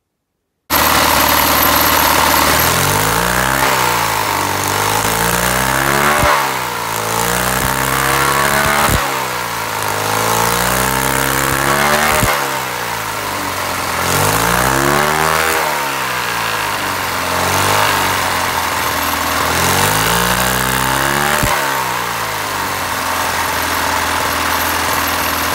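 The engine of a Fiat 126 BIS idles and then repeatedly revs up and falls back in a steady cycle, running loud and close throughout with no voices.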